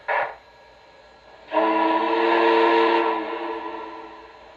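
A short toot followed by a longer, sustained chime-like whistle blast from a model Legacy T-1 Duplex steam locomotive, loud and close, fading slightly at the end.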